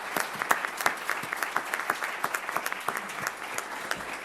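Audience at a school board meeting applauding honored high school scholars, a steady run of distinct sharp claps from a modest crowd, moderately close and without talk.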